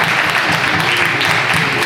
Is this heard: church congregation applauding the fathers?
yes